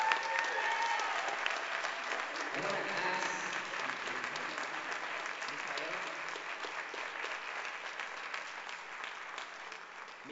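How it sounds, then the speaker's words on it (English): An audience at a talk in Oakland claps steadily for about ten seconds, a dense even patter that slowly fades, with a voice speaking briefly over it. "Can we clap it up for?"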